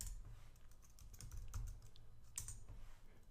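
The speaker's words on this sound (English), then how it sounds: "Then instead of head, you would type tail." Typing a Linux terminal command on a computer keyboard, a quick run of close, soft key clicks at an uneven pace over a low background hum.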